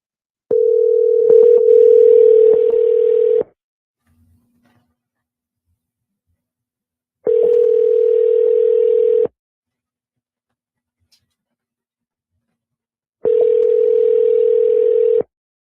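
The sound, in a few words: telephone ringing on an outgoing call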